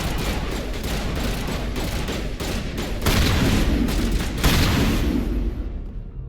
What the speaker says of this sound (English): Just throw a grenade up there.